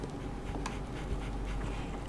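A dog panting in the video game Sherlock Holmes The Awakened, with quick, steady breaths held close and continuous throughout.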